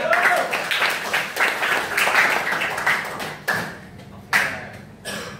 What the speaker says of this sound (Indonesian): Oke, tepuk tangan untuk Mariza.